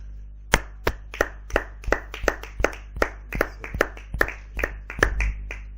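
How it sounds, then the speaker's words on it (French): A church congregation claps in acclamation, giving sharp, fairly regular hand claps about every third of a second over a low electrical hum, with no speech. "Je crois que cette parole mérite une acclamation."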